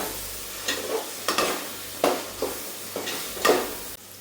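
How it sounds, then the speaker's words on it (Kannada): Ginger garlic paste sizzles and fries in a pan while a spoon stirs it in repeated scraping strokes about every half second, close and moderately loud over a low steady hum. "ಇವಾಗ ಇದಕ್ಕೆ ಶುಂಠಿ ಬೆಳ್ಳುಳ್ಳಿ ಪೇಸ್ಟು ಅದು ಅಷ್ಟು ಹಾಕ್ಕೊತಾ ಇದ್ದೀನಿ ಹಾಕ್ಕೊಂಡು ಚೆನ್ನಾಗಿ ಹಸಿ ವಾಸನೆ ಹೋಗೋ ತನಕ ಮಿಕ್ಸ್ ಮಾಡ್ಕೊಬೇಕು"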